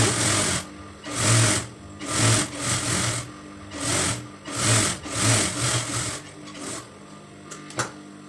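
A sewing machine stitches around the edges of a pillow cover, running in a series of short, loud, close bursts with brief pauses between them.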